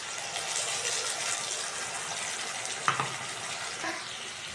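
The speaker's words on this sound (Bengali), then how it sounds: "টমেটো দিয়ে একটু ভেজে নেব।" Tomato frying in a pan for a rohu fish curry with mustard and poppy seed paste, giving a steady close sizzle throughout with a brief stirring clatter near the end.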